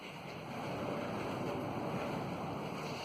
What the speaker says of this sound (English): So the wind is kicking it again today.